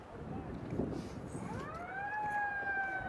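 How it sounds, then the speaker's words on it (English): A siren sounds at an outdoor polo match, starting faint under crowd and wind noise, then rising into a clear wailing tone that grows steadily louder and holds toward the end. "And just like that, we have a siren."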